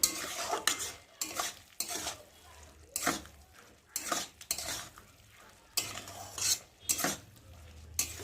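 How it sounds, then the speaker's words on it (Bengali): A spoon scrapes and stirs capsicum vegetable curry with sugar in a pan, irregular bursts of clattering strokes against the metal with a light sizzle between them, close and with no voices. "যাতে একটু ভালো করে নেড়ে নেব"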